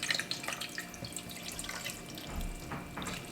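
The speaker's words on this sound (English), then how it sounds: "So I got 4 cups of water right here that I'm going to pour in here." Four cups of water poured into a pot for a smoked pork neck bone stew, a faint continuous splashing and trickling with small drips, fairly close and with no talk.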